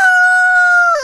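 A rooster crows loudly and close by in one sustained, clear call lasting about a second.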